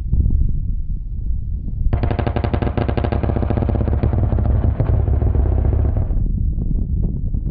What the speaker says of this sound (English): The A-10 also boasts a 30mm rotary cannon under the nose.